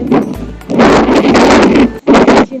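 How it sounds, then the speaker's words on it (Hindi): Wind gusts buffet the microphone outdoors in Hampi, India: loud, rough broadband rushes that swell, drop briefly near the two-second mark, then surge again, with no clear talk over them. "हवा चल रही है"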